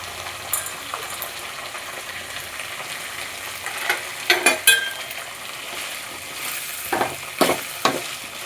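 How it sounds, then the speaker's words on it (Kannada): Sliced onions and field beans (avarekai) frying in hot oil for a vangi bath rice dish, a steady close sizzle broken by several louder scraping stirs of a spoon against the pan. "ಇದು ಇವಾಗ ಈರುಳ್ಳಿ ಎಲ್ಲ ಫ್ರೈ ಆಗಲಿಕ್ಕೆ ಇದು ಎಣ್ಣೆಗೆ ಹಾಕೋಣ ಫ್ರೈಗೆ"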